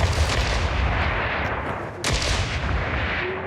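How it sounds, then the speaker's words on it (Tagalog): Gunfire in the Gangstar Mirage City video game: a dense, loud, continuous barrage of shots blurring into a heavy roar with a brief dip midway, close and without talk. "Cover me! I'm firing!"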